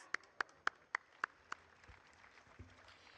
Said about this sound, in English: Let's celebrate these young environmentalists with loud claps.